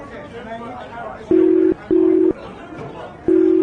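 An unanswered phone call's ringing tone repeats three times in steady, loud beeps with pauses between, over a faint background murmur of voices.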